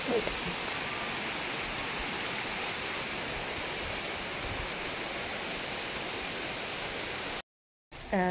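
Rain pours down steadily in a continuous, even hiss that fills the whole stretch, broken only by a brief dropout near the end.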